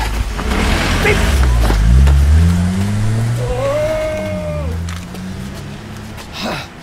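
A stolen car drives off, its engine revving and pulling away with a rising whine over rumbling low noise as people shout nearby.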